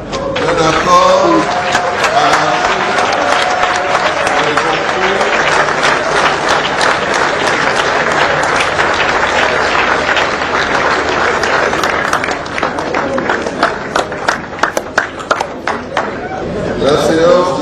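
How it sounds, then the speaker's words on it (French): A full assembly rises to applaud an agreement, sustained loud clapping filling the hall for many seconds, thinning into scattered claps near the end. "l'Assemblée unanime se met debout pour acclamer cet accord"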